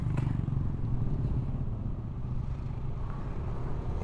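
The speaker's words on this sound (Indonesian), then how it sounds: "Ada motor." A motorcycle on a busy road gives a steady, low engine rumble throughout, mixed with road noise from passing traffic and no speech.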